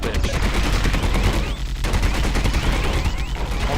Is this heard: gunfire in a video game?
yes